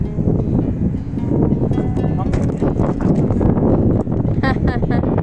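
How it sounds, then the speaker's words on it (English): Heavy, low rumbling gusts buffet the microphone continuously, with voices partly buried beneath the wind noise. "It's windy out today. Sorry for the wind,"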